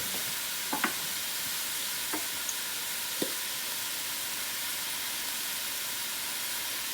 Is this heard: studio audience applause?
no